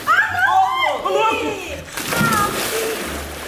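A strawberry-flavoured hookah topples into a swimming pool with a splash and sloshing water, while excited young voices shout and talk loudly over it throughout.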